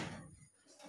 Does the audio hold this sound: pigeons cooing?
no